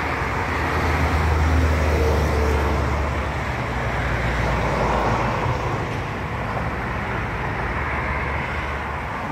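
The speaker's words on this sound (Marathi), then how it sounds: "आणि हा गाड्यांचा आवाज मला खरं खूप खूप आवडतो" Road traffic from a long line of cars on a roadway, a continuous low rumble and hiss of passing vehicles heard at a moderate distance, steady throughout with no voices.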